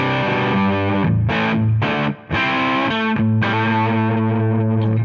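Distorted electric guitar played through a Brit 45 TR amp model on the treble channel at the third gain level rings out in sustained chords with a couple of short breaks, loud and alone.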